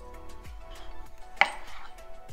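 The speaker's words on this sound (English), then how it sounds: "So I have to chop all these." A knife chops vegetables for momo filling on a board, several distinct, spaced strokes ringing out clearly, with one sharper hit partway through and no talking.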